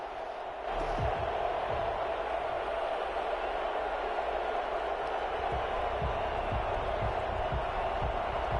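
A stadium crowd at an NFL game between the Green Bay Packers and New Orleans Saints in the football video game Madden, a steady faint roar of distant cheering and murmur that runs throughout with little change.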